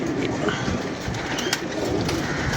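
A caught pigeon coos softly, a low steady murmur of bird calls held close by in a rural Punjab setting, with faint handling noise and no clear talk.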